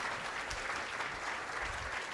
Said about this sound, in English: join me in one more round of applause for our panel tonight